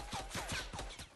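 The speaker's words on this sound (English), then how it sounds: "We got more gunfire." Bursts of distant gunfire in Fortnite Battle Royale, a quick run of several faint rhythmic shots over about a second.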